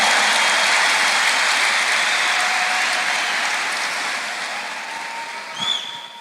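Congregation at a bilingual church service applauding for Jesus, a dense steady wash of clapping that slowly fades over several seconds.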